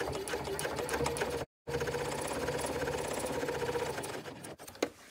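Sewing machine top stitching a tote bag at a longer stitch length along a pocket edge, running in a steady rapid whir with one brief stop partway and a short pause near the end.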